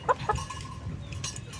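Backyard chickens cluck and squawk as they are fed leftover food, a couple of sharp calls up front followed by softer scattered clucking at moderate distance.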